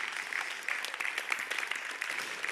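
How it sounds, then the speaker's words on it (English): Conference audience applauding during the closing plenary of the EVS 38 electric vehicle symposium, a steady patter of many hands clapping at moderate level from across the hall, with no speech over it. "Huge applause."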